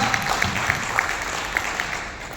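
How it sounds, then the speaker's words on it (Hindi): Audience applause at a business seminar in Jaipur, a steady wash of clapping from a crowd with scattered sharper claps standing out, moderately loud and continuous, with no talking over it. "उनके लिए जोरदार तालियां एक बार।"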